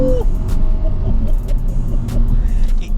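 A lightly modified 2005 Ford Mondeo ST220 V6 with manual gearbox revs and rumbles loudly up close, a deep steady growl building with throttle, with faint road and wind noise.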